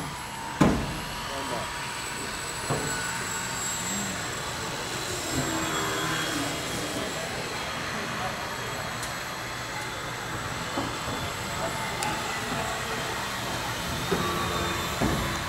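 A Pico Stick indoor RC model airplane flies inside a hall in Michigan, its small motor giving a continuous thin buzzing drone throughout, with background voices talking now and then.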